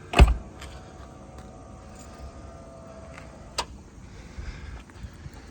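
A single sharp mechanical thump at the start, then a faint quiet whir and a soft click a few seconds later as a 1993 Cadillac Allante's trunk power pull-down draws it shut.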